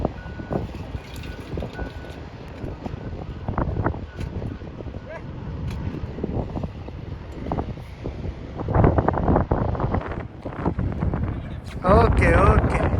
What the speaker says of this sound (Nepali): यति ठुलो हावा चलेछ नि यहाँ